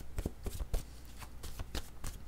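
Tarot cards being shuffled by hand, a soft quick riffling patter of papery flicks, close and quiet with no talking.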